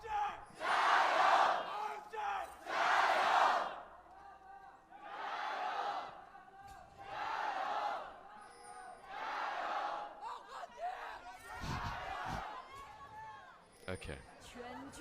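A large esports arena crowd at an LPL Spring Split match between Royal Never Give Up and FunPlus Phoenix roars and chants in repeated loud surges, swelling and fading in waves, with scattered shouts between bursts.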